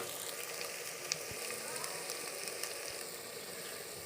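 Onions frying in a pan give a faint, even hiss of sizzling with occasional small pops and ticks, quiet and continuous.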